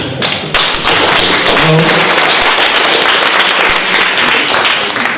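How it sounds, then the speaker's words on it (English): An audience at an IoT meetup in Vienna gives a big round of applause for a speaker about to talk on home beer brewing, the clapping loud, dense and sustained for several seconds with a few heavier thumps mixed in. "A big round of applause for Peter"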